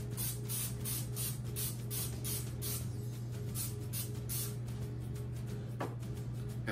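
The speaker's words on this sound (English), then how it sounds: "Now spray your molds with some pan." Cooking spray hissing in repeated short bursts as it is sprayed into small molds in an Instant Pot kitchen setup, close and steady over a low background hum.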